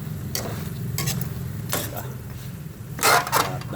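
Food sizzling and frying in a pan with chili added, steady crackling sizzle throughout with occasional scraping stirs of a utensil, close, and a voice talking over it.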